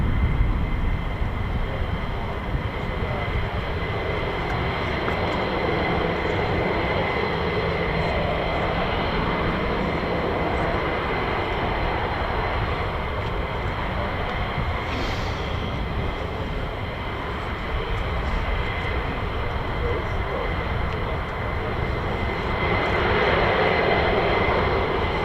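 F-16 fighter jets taxiing at RAF Lakenheath air base, a continuous loud engine roar and whine holding steady throughout, with no pauses.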